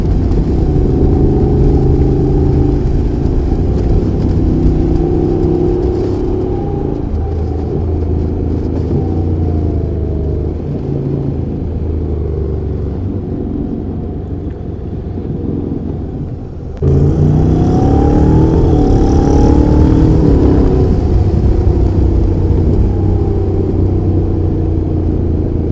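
Honda NC750X motorcycle engine on a race track, loud and close with steady droning and harmonic sweeps as revs rise and fall through gear changes, plus a sharp jump in level partway through and continued hard running.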